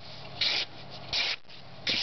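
A knife blade edge is stroked over polishing compound to hone it after sharpening, making three short, close rasping rubs in an even rhythm with quieter gaps between.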